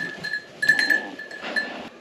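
Goats on a homestead farm in Portugal, heard as bleats or soft animal calls close by, in two short bursts over quiet outdoor background.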